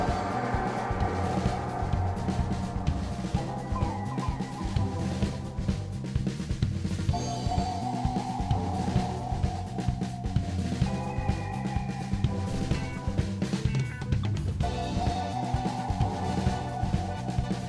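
Game music from Sonic 06, the Flame Core stage theme, plays at moderate volume: a steady driving beat with bass and layered melodic lines looping throughout, with no talking.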